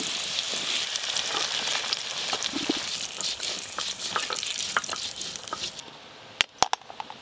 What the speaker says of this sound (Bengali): হালকা করে আলুগুলো ভেজে নিয়েছি এবার তুলে নেব